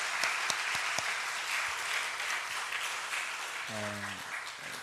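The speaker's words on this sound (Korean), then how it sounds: "응원의 박수, 축복의 박수 한번 해줬으면 좋겠습니다." A church congregation applauds steadily as a blessing for their children, broad even clapping filling the room for several seconds, with a brief tonal sound near the end.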